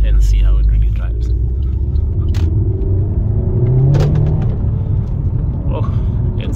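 An Alfa Romeo Giulietta QV TCT hatchback accelerates hard from inside the cabin, its engine a low, steady rumble that rises in pitch, with some rattling in the car. No words can be made out.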